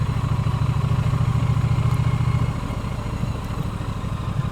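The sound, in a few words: Triumph Bonneville motorcycle engine idling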